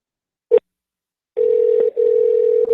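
A phone call going through to voicemail: a short blip, a pause, then a steady electronic tone that breaks briefly and resumes, loud and close on the line.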